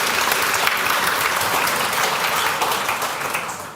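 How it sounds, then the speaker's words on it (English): Audience applause fills a Climathon Bratislava 2023 awards ceremony for team presentations, a dense steady clapping from a large crowd that continues throughout and tapers slightly near the end, with no talk over it. "one more round of applause"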